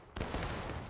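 Musket volley in the Civil War video game War of Rights: a sudden loud, ragged crash of many shots after a brief quiet moment, with the roar sustained and echoing to the end.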